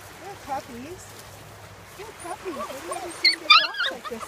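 Young red poodle puppies on an outing over rocks make repeated small whimpers and yips, close and fairly quiet, with a couple of sharper barks near the end amid light outdoor background.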